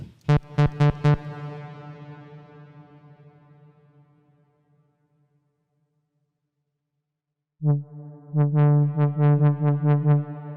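A bright synthesized brass lead in melodic techno style plays a few short stabbed notes that ring out in a long reverb tail, then after a silence a quick run of notes.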